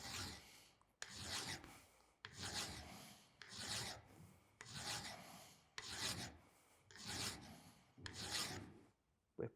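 Hand file rasping across metal clamped in a vise, eight long steady strokes in an even rhythm with brief pauses between, close and fairly loud with no talking.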